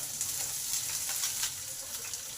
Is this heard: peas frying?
yes